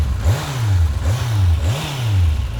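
Kawasaki Z800 motorcycle engine revved three times in quick succession, each throttle blip rising sharply in pitch before settling back to a bassy idle, loud and close.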